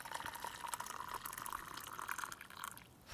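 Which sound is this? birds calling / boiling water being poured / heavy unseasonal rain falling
boiling water being poured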